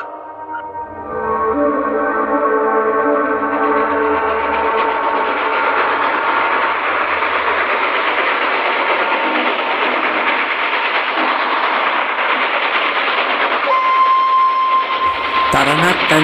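A night train travelling, heard as a steady, continuous rumble of moving rail cars that swells up after a quiet first second and holds loud throughout, with a brief whistle-like tone near the end.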